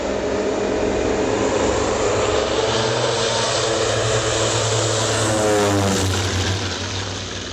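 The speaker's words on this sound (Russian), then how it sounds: "после чего самолет поднялся в воздух." A restored Ilyushin Il-14 piston propeller airliner roars loudly and steadily at full power as it takes off from Orlovka airfield, its engine drone constant and close throughout with no voices.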